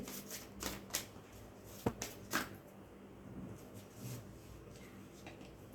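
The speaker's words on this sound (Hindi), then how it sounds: "चलिए एक कार्ड और लेते हैं इसी डेक से।" A deck of cards is shuffled by hand before drawing one for a reading, with several soft riffling bursts and a couple of sharper snaps at close range, and no talk.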